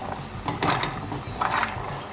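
A gas stove knob is turned off with two short bursts of ratcheting clicks, close up in an otherwise quiet kitchen.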